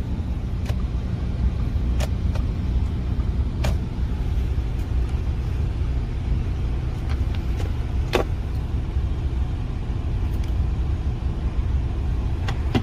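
A scrapped Audi Q5 2.0 TDI diesel idles steadily after starting, with a constant low, close engine drone for about thirteen seconds. Faint clicks and ticks sound over it.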